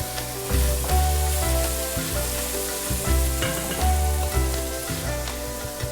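Steady sizzle of beef browning in a hot pan for stew, with occasional stirring scrapes over a dense, continuous frying hiss and some background music, close and constant.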